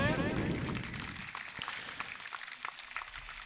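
Audience applause welcoming a guest at a gathering of ESI employees in Madhya Pradesh: a burst of clapping that starts loud and thins into scattered, fainter claps, with a low rumble of the room beneath.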